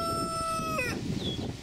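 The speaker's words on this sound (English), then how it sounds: "That rooster over there, that's a red leghorn." A red leghorn rooster crows once nearby, a long drawn-out call that breaks off, followed by a brief higher squawk.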